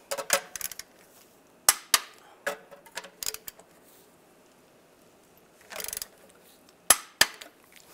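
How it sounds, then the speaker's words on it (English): Torque wrench tightening bolts to spec on a 2007-2013 Chevy Silverado during a rear main seal replacement; sharp metallic clicks arrive in irregular bursts with quiet gaps, one short rattling burst midway, close and fairly faint. "Now we'll torque these bolts to 37 foot-pounds."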